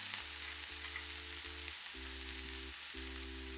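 Boiled potatoes fry in hot oil with a steady close sizzle and hiss, over a low droning tonal background.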